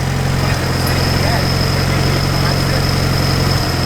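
A steady, loud, unbalanced car engine drones with a low, uneven throb and a constant high whine, running without pause throughout.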